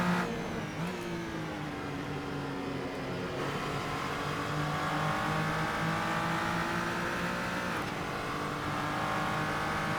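A GT3 race car engine at Silverstone in Assetto Corsa screams at high revs, its pitch climbing through the gears with short dips at the shifts, loud and continuous with no talk.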